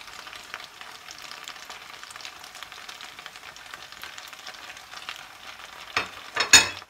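Kaşar cheese going into creamy pasta in a pan, with a steady low sizzle and faint stirring that runs throughout, then a couple of louder clattering scrapes near the end.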